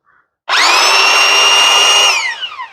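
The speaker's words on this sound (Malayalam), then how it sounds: "ഇപ്പൊ ഞാൻ ഇതിന്റെ നോർമൽ ഡ്രിൽ ഓപ്ഷനിലാണ് ഇടുന്നത്." A power drill in its normal drilling mode, used for metal or wood, spins up sharply from silence into a loud, steady whine, holds for about a second and a half, then winds down as the motor slows.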